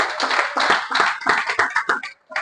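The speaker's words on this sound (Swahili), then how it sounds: "Wapi makofi ya Greenworld." A business conference audience claps for a few seconds in a burst of close, dense hand claps that fade out near the end.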